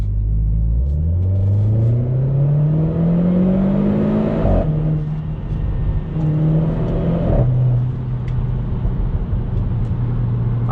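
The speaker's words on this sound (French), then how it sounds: "Oh, le paf à l'échappement il est phénoménal." Renault Clio 4 RS18 accelerating hard, a loud close engine note rising in pitch through quick, crisp gear shifts with brief dips between gears, exhaust crackle in the background, no talk.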